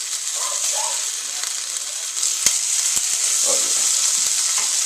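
A burger patty frying in a pan gives off a steady bright sizzle, broken by a few sharp clicks, while someone speaks briefly over it.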